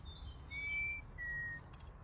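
Faint, thin whistles and chirps from robins and a blackbird sound from a distance in a UK spring garden over a low outdoor rumble, a couple of sustained high notes followed by short tweets.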